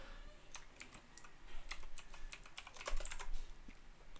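Steady typing on a computer keyboard, a run of crisp, irregular key clicks close by with a few louder bursts, alone with no talking over it.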